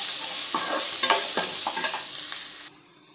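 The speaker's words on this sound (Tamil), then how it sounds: "சேர்த்து எல்லாத்தையும் நல்லா வதக்கிக்கணும்." Dried chillies, curry leaves and chopped coconut sautéed in hot oil for a Tamil uppu urundai tempering: steady sizzling with rhythmic spoon stirs and scrapes, close and fairly loud, cutting to quiet near the end.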